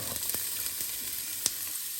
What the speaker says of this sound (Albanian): Pasi që vaji është nxehur, hedhim 2 qep